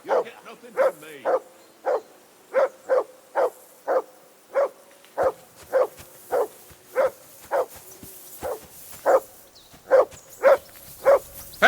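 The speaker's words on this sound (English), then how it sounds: "That barking was a pain in the ass." A dog in the medieval role-playing game Kingdom Come: Deliverance 2 barks repeatedly and close by in an even, insistent rhythm, about two barks a second with brief pauses, alone and with no talking.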